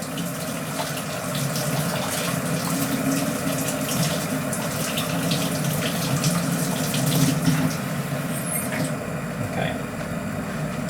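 Jewelry is rinsed under running tap water with dish soap, a steady close splashing stream that swells slightly midway, with faint handling clinks near the end and no speech.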